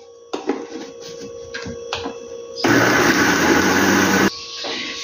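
An electric blender whirs as it mixes homemade seasoned salt ingredients, first with uneven knocks and pulses, then a loud, steady buzzing run of about two seconds before it eases to a lower hum.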